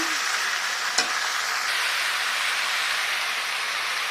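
Banana stem and potato curry with cumin and coriander powder and a splash of water is stir-fried in a pan, making a continuous close hiss and sizzle with a single sharp scrape of the spatula early on.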